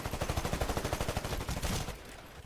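Rapid automatic weapon fire in the video game Titanfall, a dense fast burst of shots at steady rhythm, loud and up front, tailing off near the end.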